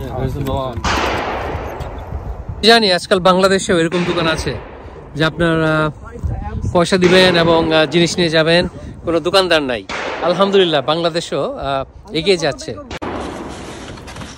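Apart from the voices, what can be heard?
gunfire from a shooting range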